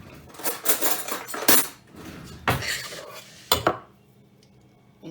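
A spoon scoops and scrapes meringue in a bowl, giving several close clinks and scrapes of metal on the dish with short pauses between, then quiet.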